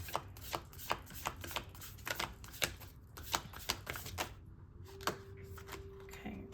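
Tarot cards being shuffled close by in a quiet room, a steady run of soft riffling snaps and taps that pause briefly near the end, with no talking.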